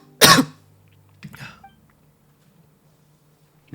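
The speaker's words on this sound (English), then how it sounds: "cough, cough." One sharp, close cough rings out, followed by a softer throaty cough a second later, then quiet.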